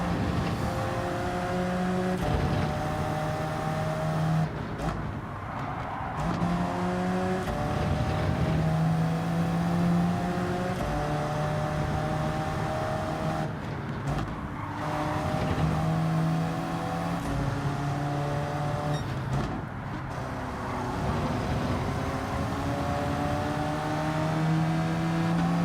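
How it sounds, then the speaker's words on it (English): Race car engine in the Gran Turismo 7 video game, a loud, continuous near whine that rises through the gears, drops sharply as the throttle lifts for braking, then climbs again in repeated cycles with no voices over it. "I heard him come off the power before he braked there, I think. So I heard the engine lift"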